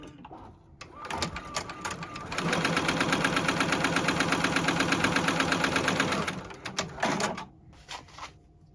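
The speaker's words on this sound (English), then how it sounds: "Now I'm going to stitch where it's going to want me to put my fabric" A JUKI embroidery sewing machine stitching an in-the-hoop twisted log cabin quilt block, its needle hammering a fast steady rhythm for several seconds, bracketed by slower start-up and stopping thumps.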